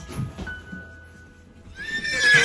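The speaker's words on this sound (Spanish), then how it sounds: "Ay, pobre caballo loco." A horse gives a loud, close whinny that rises sharply near the end, after a quieter stretch with faint hoof clops at the start; no one speaks.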